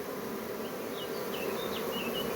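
Honey bees swarm around a hive at a queen-rearing apiary, a dense steady buzz with individual bees whining past up close, with no voices.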